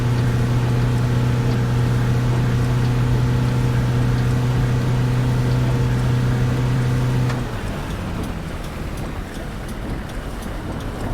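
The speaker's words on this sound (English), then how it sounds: "So how would the engine sound level-wise, Kendra?" Bus engine in the Fernbus Simulator game, a steady droning hum with a strong low tone that cuts out partway, leaving a softer rumbling road noise, with no talking.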